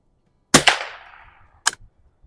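Two sharp shots from a Stevens Springfield 87a rifle at an outdoor range, a loud crack with a long fading tail followed by a quick second report, then a third crisp shot about a second later.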